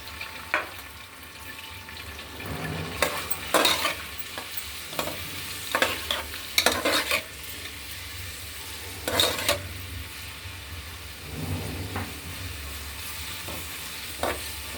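Chopped onions sizzle in hot oil in a home kitchen pan, a steady frying hiss broken by repeated scraping stirs and a few sharp clinks of the utensil against the pan.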